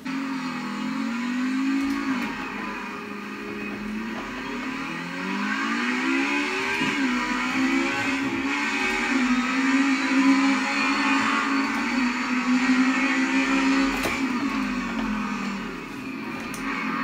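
Race car engine in a VR racing game, a steady mid-pitched drone that rises and falls through gear changes and revs, continuous and close with no talking.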